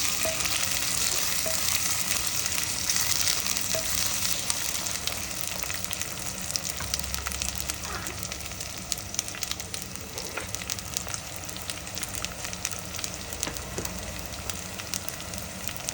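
Tomatoes and cumin fry steadily in a pan for a mutton rib bone curry, giving a continuous crackling sizzle with scattered pops, close and even throughout.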